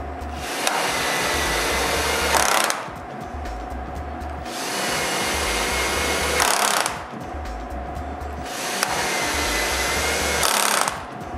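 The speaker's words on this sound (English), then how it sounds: "All the others are screwed with the drill." A drill drives screws for door hinges into an interior door in three long, steady whirring runs separated by short pauses, close and fairly loud.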